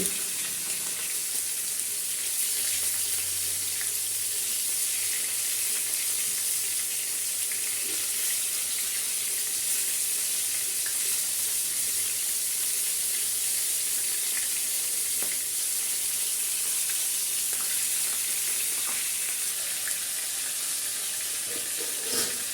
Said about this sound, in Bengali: গরম তেলে এখন মাছটি ভালো করে ভেজে নেব